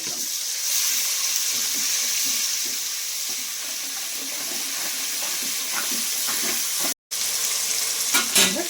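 Tomatoes frying in a pan for gongura mutton biryani, a steady, close sizzle with continuous hiss and a brief break near the end.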